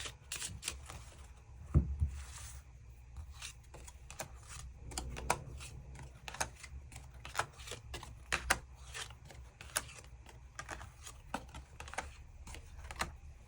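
Tarot cards being shuffled and drawn, with quick papery riffles and soft snaps repeating throughout at close range, and no talking.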